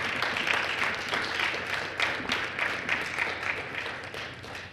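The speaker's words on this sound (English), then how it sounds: "But I want you to give them a round of applause for the work that they're doing." An audience applauds coaches of the 2014 British Virgin Islands CARIFTA team, with a steady, moderately loud wash of many hands clapping that continues throughout without talk.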